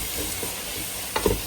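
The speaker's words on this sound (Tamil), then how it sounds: "அப்படியே ஒரு கிண்டி கிண்டிடலாம்." Ginger garlic paste sautés in a pan for chicken biryani with a soft, steady sizzle, and a few quiet scraping stirs grow louder near the end.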